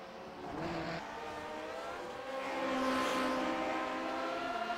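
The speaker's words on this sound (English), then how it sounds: "All the cars trying to get back up to speed now as they climb on the banking" Vintage race cars in the Grand Prix Legends racing game accelerate back up to speed while climbing the banking at Daytona, a steady rising engine drone with overlapping cars that swells and peaks midway, no voices.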